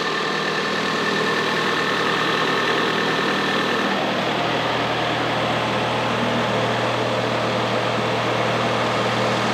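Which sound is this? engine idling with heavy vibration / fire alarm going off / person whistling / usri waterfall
engine idling with heavy vibration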